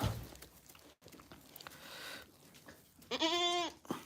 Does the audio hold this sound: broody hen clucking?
no